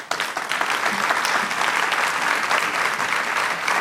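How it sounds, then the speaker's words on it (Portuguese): Strong, continuous applause fills a formal opening ceremony hall as a university rector is introduced, many hands clapping densely and evenly throughout. "Uma salva de palmas, por favor."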